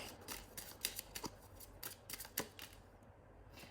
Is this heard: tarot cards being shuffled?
yes